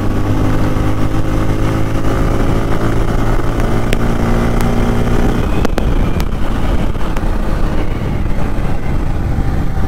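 A Bajaj Pulsar N250 motorcycle engine revs and accelerates on the road, a loud continuous droning roar with rising engine tones under heavy wind rush close to the microphone, no voices heard.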